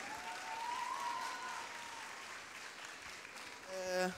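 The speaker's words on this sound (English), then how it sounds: "Please have a round of applause." An audience at a cosplay convention panel breaks into applause, a sustained wash of clapping that swells and then slowly thins out, heard from within the hall.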